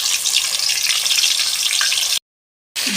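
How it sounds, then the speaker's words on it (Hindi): Chicken leg pieces frying in hot ghee, a steady loud sizzle and crackle of spattering fat that runs continuously, then cuts off abruptly before a brief return at the end. "घी में मैंने चिकन डाल दिया। अब 10 मिनट तक हमने इसको फ्राई करना है।"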